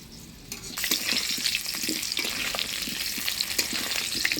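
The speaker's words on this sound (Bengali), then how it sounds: "অর্ধেকটা তেলে ফোড়ন দিয়ে দেবো" Chopped onion drops into hot mustard oil and sizzles loudly at once, a dense close crackle with scattered sharp pops and stirring scrapes that continue throughout.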